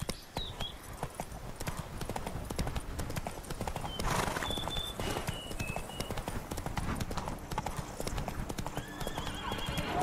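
Roach, a horse in The Witcher 3, clatters along at close range with rapid, dense hoofbeats, whinnying partway through amid game ambience and bird-like chirps.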